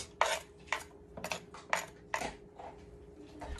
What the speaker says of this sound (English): we're gonna scrape those onions into the skillet that we used